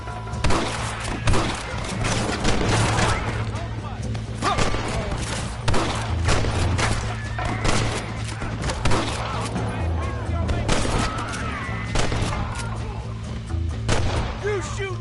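Continuous gunfire in a Red Dead Redemption shootout, loud repeated shots and thuds over a steady low hum, with voices talking through the fight.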